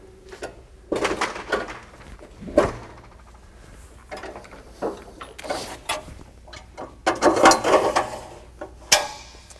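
A hire access platform folded back up to its storage position, giving intermittent mechanical clunks, ratcheting clicks and knocks spread unevenly over several seconds, close by with quiet gaps between, no speech.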